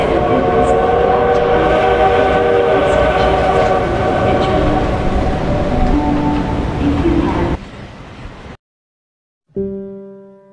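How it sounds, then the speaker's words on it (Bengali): A train at a small country station rumbles loudly with sustained horn-like tones, stops abruptly into silence, then starts up again with a fresh burst of engine tones, used as an audiobook effect. "ট্রেন 2 মিনিট থামিয়া চলিয়া গেল।"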